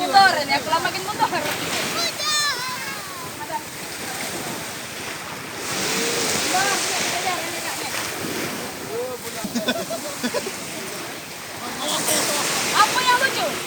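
Ocean waves surge and wash in a continuous roar at Punai Beach on Belitung, with heavy wind buffeting the microphone and people talking loudly over the surf nearby.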